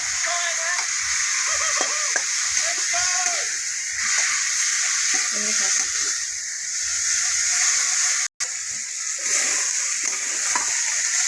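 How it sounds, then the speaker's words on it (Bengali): Water and ground cumin hitting a hot pan of browned masala, a loud continuous hiss and sizzle with stirring scrapes, close up and briefly cut out near the end. "দিয়ে দিলাম একটু জল, এবার দিয়ে দিলাম জিরের গুঁড়ো"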